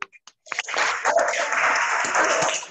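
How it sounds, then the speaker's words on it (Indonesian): A student seminar audience claps: a few scattered taps give way to a burst of dense, moderately loud applause that holds steady for about two seconds. "Tepuk tangan untuk kalian semua."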